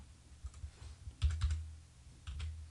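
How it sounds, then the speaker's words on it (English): Computer keyboard arrow keys tapped in short, sparse clicks and quick pairs, close and quiet over a low hum, with no one speaking. "You can use the arrow keys to move things around."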